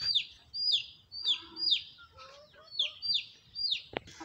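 A chicken calls in a series of about seven short, sharp, repeated cries in an even rhythm, close by and fairly quiet, with a brief knock near the end.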